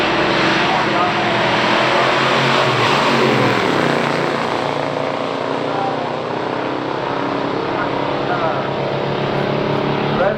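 A 1970 Chevrolet Chevelle SS with the L34 engine accelerates down a drag strip in a pure stock race, giving a loud, sustained roaring engine rush that fills the whole stretch with dense, steady power and no clear pauses.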